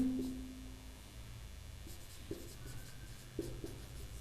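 Pen writing by hand on paper while noting F2 progeny results of a Mendelian dihybrid cross, faint scratchy strokes with a few distinct taps, close and quiet with no talk.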